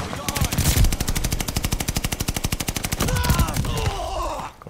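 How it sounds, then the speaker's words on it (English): Video game gunfire rattles out as a rapid, steady burst of automatic shots, close and loud, with a brief pause before more firing trails off near the end. "Y'all notice how I was pumping the bullets."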